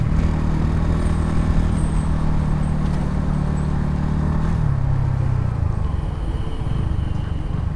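A Bajaj Pulsar N160 motorcycle engine drones steadily while riding at speed, a low even hum under constant rushing wind noise, with the engine note dropping slightly partway through.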